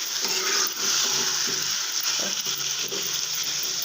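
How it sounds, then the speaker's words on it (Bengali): Potato pieces added to frying meat curry in spiced oil, stirred in a pan: a steady, close sizzle with rhythmic scraping and stirring strokes, loud and continuous, no talking. "এখন একটু গোশটা ভাজা হয়ে গেছে, ভালো করে ভাজা হয়ে গেছে মশলাটা। আলুটা দিয়ে দাও।"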